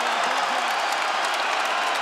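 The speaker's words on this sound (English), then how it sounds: "This crowd is on its feet." A fight crowd in an octagon arena cheers and applauds steadily, a dense continuous roar of clapping and shouting with a faint voice underneath.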